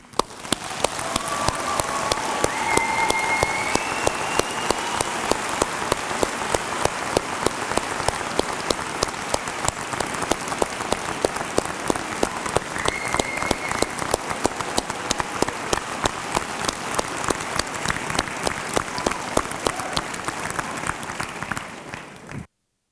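A university convocation audience applauds the graduating class, a long and loud sustained ovation of many hands clapping that carries on evenly for over twenty seconds before stopping.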